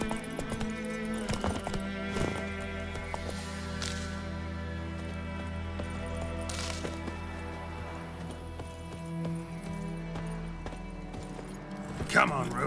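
Roach, a horse in Witcher 3, gallops with a rapid clip-clop of hooves under game sounds and talking, and a snort or whinny breaks through near the end.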